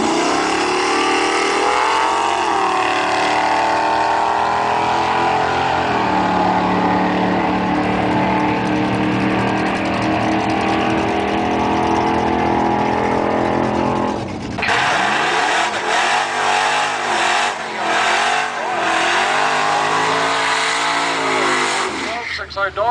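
Drag racing cars, a Falcon among them, roar off the line and scream down the strip at Ruapuna, engines revving hard and rising in pitch with a loud sustained howl. A commentator talks over the noise.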